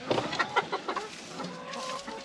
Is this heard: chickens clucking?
yes